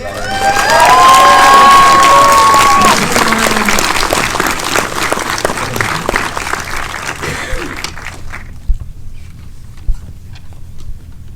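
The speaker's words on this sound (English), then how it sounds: "Can you please give a warm round of applause for Riley Stearns?" An audience at a film screening and talk applauds and cheers to welcome a writer-director, loud clapping with shouts and a whistle early on, thinning out and dying away to near silence with a couple of final claps.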